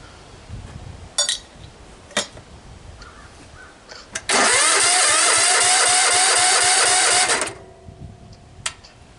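A flooded 1975 Roper engine being cranked: a few scattered clicks and clanks, then about three seconds of loud, steady, rhythmic cranking that stops without the engine catching, followed by quiet ticking.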